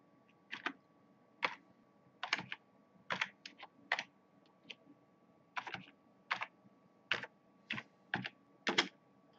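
Keystrokes on a computer keyboard while writing Python code: irregular clusters of crisp, close taps with short pauses between bursts, fairly quiet, with no speech.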